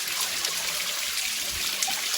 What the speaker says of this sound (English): just enjoy the sound of the waterfall.